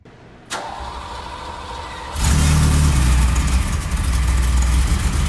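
A 1982 Ferrari 308 GTS with a fuel-injected engine cranks briefly, then fires and settles into a loud, steady, close-up idle with a deep rumble.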